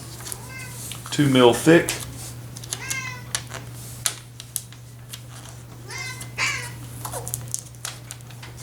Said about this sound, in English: There's my stupid cat meowing.